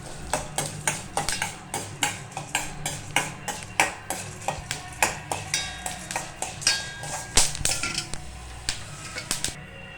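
Pepper chutney ingredients, including black pepper, are sautéed in oil with a rapid, regular series of spatula taps and scrapes against the pan over a faint sizzle, close by.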